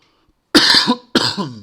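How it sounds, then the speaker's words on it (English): Two harsh coughs in quick succession, close and loud, with a short pause between them. "Got a bit of a cough at the moment."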